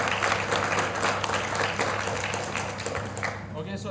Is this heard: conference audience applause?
yes